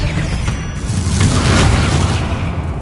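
Expelliarmus spell fired in a Hogwarts video game, a loud continuous whooshing blast with a deep rumbling boom that swells and lingers across the moment.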